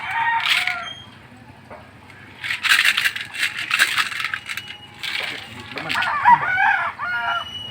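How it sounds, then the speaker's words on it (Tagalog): Two chickens cluck and a rooster crows in short bursts, mixed with rustling and clinking noises close by. "Ayan ang dalawang manok."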